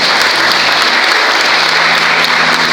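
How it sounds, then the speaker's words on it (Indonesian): A church congregation claps together at a Good Friday service at GPdI Gama 45 in Pontianak, a steady, loud, dense wash of applause that fills the whole moment without a break. "Kita tepuk tangan bagi Tuhan Yesus."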